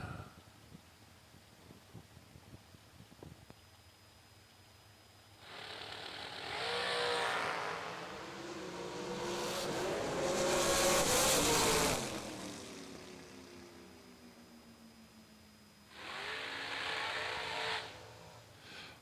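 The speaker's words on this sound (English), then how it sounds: "Heads up drag race, 464 on both dial boards. See who lights it up at the finish line." A pair of drag race cars launches down the strip in a heads-up race, roaring loudly then fading into the distance, with another engine surge near the end over faint crowd murmur.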